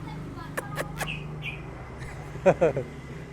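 A caged songbird close to the camera gives a few short, sharp chirps spaced apart, then a quick pair of louder calls, over a low background hum.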